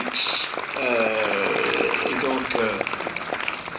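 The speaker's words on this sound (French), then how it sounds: "on peut applaudir à tous ceux qui ont participé à cet extraordinaire" Applause in a mission control room as the Rosetta mission ends, clapping mixed with cheering and overlapping voices nearby.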